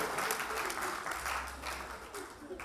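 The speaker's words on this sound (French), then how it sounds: "On l'applaudit." Comedy club audience applauding a performer, a full, close wash of clapping that swells slightly mid-way and tapers near the end, with faint voices mixed in.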